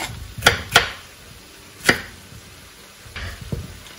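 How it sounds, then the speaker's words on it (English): Knife chopping cauliflower leaves and stem on a cutting board, four crisp separate chops spaced unevenly, close and clear in a quiet kitchen. "I'll just chop it up to smaller pieces so it cooks quickly, and also these leaves"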